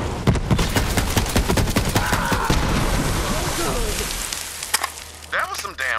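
Rapid automatic gunfire from the video game Borderlands 3, loud dense bursts of shots filling most of the moment with game effects and a voice underneath.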